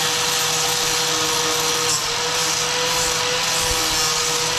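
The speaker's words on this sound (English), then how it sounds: "I'm gonna take my grinder, this one here, and I'm just gonna zip through there just to kind of cut off the little prongs that are sticking out." Angle grinder zipping through small protruding metal prongs on an old truck being readied for an engine swap, a steady loud whine and rasp running throughout with no talking.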